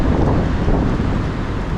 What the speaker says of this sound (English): It's a windy day out.